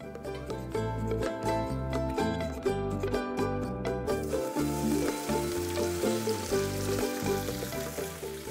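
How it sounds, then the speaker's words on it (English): Tofu cubes sear in avocado oil in a nonstick pan over medium heat, giving a loud, continuous crackling sizzle that runs the whole time beneath steady musical tones. "Sear the tofu for about 3 to 4 minutes"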